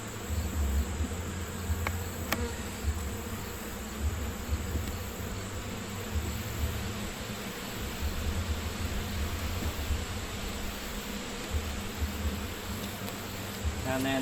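Honeybees inside an opened hive during a September inspection give a loud, continuous buzz. The drone holds close and steady from start to finish and swells slightly as the colony grows agitated.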